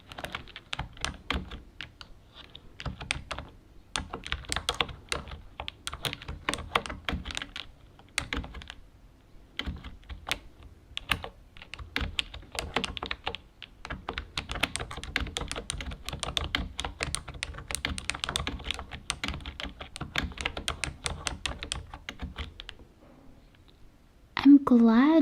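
Typing on an orange computer keyboard, with bursts of close, crisp key clicks in uneven rhythm and short pauses, continuing for over twenty seconds.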